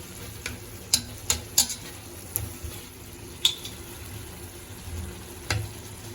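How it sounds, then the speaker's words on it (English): Noodles stir-fried with oyster sauce for Mamak-style mee goreng: a low steady sizzle broken by several sharp spatula scrapes and clacks against the pan, close up with no talk. "Now just stir it."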